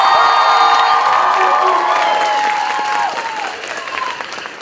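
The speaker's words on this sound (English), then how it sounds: "Everyone, please make some noise for Chris and Isa representing Ecuador." Sustained applause and excited shouting from a student audience at a Latino pageant fill the room for a couple representing Ecuador, dense clapping with high voices that gradually thins.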